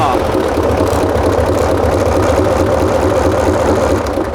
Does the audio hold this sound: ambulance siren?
no